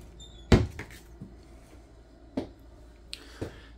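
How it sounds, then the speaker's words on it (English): A shock-assisted cabinet door in a 2024 Grand Surveyor 268FKBS travel trailer kitchen closes with a soft, close thump, followed by a few lighter knocks and clicks in a quiet room. "But you do have a little shock assist on your doors here."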